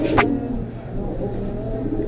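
Thor pigeons in a loft make a low, continuous cooing murmur across the whole stretch, with a brief brighter chirp near the start.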